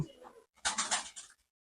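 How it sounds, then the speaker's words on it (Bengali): A female pigeon gives a soft, brief coo, close by and faint, in one short burst after a quiet pause. "এই মাদিটা এই যে কবুতরটা পুরো ফুল"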